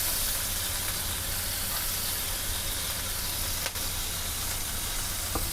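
Chopped garlic sizzles in butter and oil in a pan, cooked for a restaurant-style creamy pasta, a steady close hiss with no voices.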